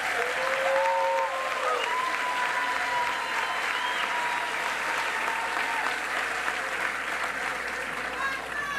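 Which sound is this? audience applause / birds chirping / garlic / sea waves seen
audience applause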